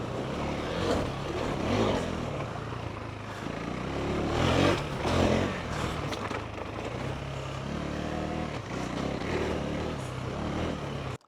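A KTM 390 Enduro motorcycle ridden off-road over bumpy track, its engine droning steadily and swelling in repeated surges of throttle, with wind and rattle mixed in throughout.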